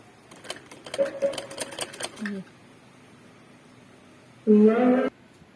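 A sewing machine stitches cloth for a small girl's frock in two bursts of rapid mechanical clatter. The first burst runs for about two seconds and the second is a shorter, louder run after a quiet pause.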